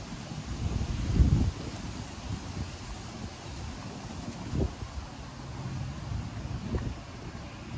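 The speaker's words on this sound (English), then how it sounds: "And it's kind of windy out here." Wind blowing outdoors, a steady low rumbling buffet across the microphone with a few stronger gusts, no voices.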